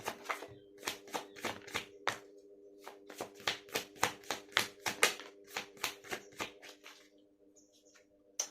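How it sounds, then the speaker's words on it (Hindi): Tarot cards are shuffled by hand in a series of quick, crisp riffles and taps that repeat in a rough rhythm, close and fairly quiet, then thin out near the end. "बहुत ही ज़्यादा कार्ड उछल रहे"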